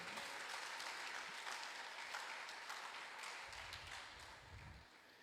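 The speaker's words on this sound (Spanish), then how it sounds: "¿Cuántos le dan un fuerte aplauso al Señor por eso?" A church congregation at a Spanish-language service gives steady, dense applause that fills the room for several seconds, then slowly thins out.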